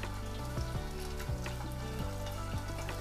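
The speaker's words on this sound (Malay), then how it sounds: "用小火煎就好了。" Oil sizzles and crackles steadily as hairtail fish pan-fries over low heat, a soft continuous frying hiss with faint pops and no talk.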